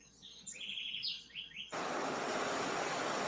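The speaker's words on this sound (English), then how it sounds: "You can hear the birds and stuff" Bright bird chirps and short whistled calls in a remote outdoor area of Trinidad and Tobago, then a steady broadband rush like wind or rushing water takes over and covers them.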